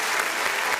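Wedding guests applaud the newlyweds in a steady, dense wash of clapping from a sizable crowd, loud and continuous throughout with no voices rising above it.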